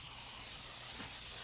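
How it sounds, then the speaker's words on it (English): A spray can applies black paint to a small cooler being turned into a solar cooker, giving a steady, close hiss that runs without pause from start to finish. "all we're going to do is spray paint it black."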